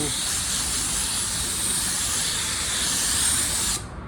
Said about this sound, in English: blow the work area off